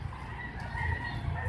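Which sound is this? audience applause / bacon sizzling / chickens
chickens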